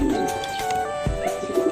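A racing pigeon arriving at its loft coos softly while other birds chirp nearby, with a few light taps and rustles around the loft.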